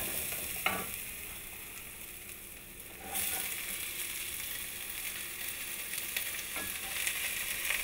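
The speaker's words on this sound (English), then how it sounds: "Saute the ginger and garlic with the onions in the olive oil just until they start to get translucent." Ginger and garlic sizzle with onions in olive oil in a pan, a steady broad frying hiss that grows louder partway through, with a few soft clicks of stirring and no voices.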